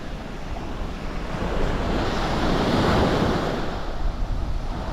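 Ocean surf rolls steadily onto KK Beach in Pattani, Thailand, with wind buffeting the microphone; a continuous, fairly loud wash of breaking waves swells slightly midway, with no voices.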